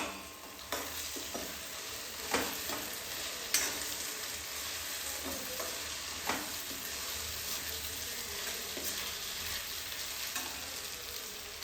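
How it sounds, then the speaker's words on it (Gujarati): Onions sauté in a pan for a Kathiyawadi eggplant bharta, a soft continuous sizzle broken by several sharp scrapes and clinks of a stirring spoon, close and fairly quiet. "હવે જો ડુંગળી પણ સંતળાઈ ગઈ છે"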